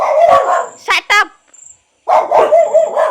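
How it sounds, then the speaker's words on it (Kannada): Dogs bark in a couple of sharp, close yaps, breaking up steady talking before and after them. "ಅದಕ್ಕೆ ಇವರೆಲ್ಲ ಬೊಗಳ್ತಿದ್ದಾರೆ"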